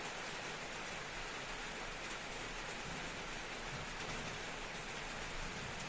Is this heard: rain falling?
yes